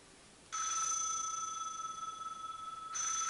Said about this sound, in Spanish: Dame un segundo que está sonando el teléfono,